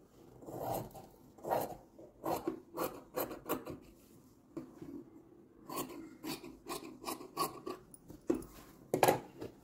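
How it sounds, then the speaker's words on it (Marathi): Scissors cutting excess cloth in a straight line for a quilt made from fabric scraps, giving a quiet series of rhythmic snips and rubbing scrapes close by, with no talking. "हे जे एक्स्ट्रा आहे ना ते सरळ रेषेत कापून घ्यायचं"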